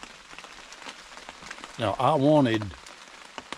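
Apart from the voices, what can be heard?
pouring rain on a hunting blind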